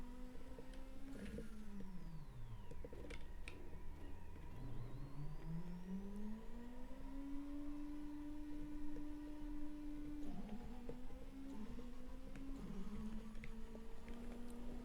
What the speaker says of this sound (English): We have car sounds.